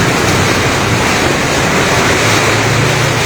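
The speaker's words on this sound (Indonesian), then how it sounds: "masih tetap hujan dengan intensitas tinggi disertai angin kencang" Heavy rain driven by strong wind during a sudden downpour in Bandung, Indonesia: a loud, steady, dense roar of rain and gusts with no break, close to the microphone.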